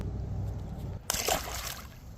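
UDI Inkfish RC jetski dropping into water, a low motor hum followed by a sudden splash and churning wash that settles back to the steady whine, close and clear.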